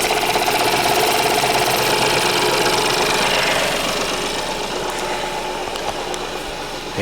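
A 2012 Ford 1.0-litre three-cylinder turbocharged engine runs steadily close by, with a dense, even mechanical clatter and whirr at a constant pace, loud with no talking.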